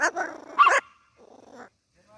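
A parrot mimics a dog, producing two short rough growling bursts followed by a quieter, raspier rumble, close and clear.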